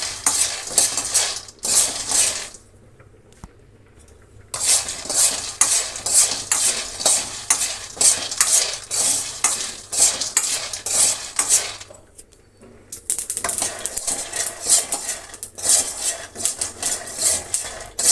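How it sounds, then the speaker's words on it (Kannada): Peanuts dry-roast in a pan, rattling and scraping as they are stirred in close, busy bursts, with a couple of short pauses between rounds of stirring. "ಒಂದು ಬಾಣಲೆ ಇಟ್ಕೊಂಡು ಕಡಲೆ ಬೀಜನ ನಾವು ಮೊದಲು ಹುರಿದಿಟ್ಕೊಳ್ಳೋಣ"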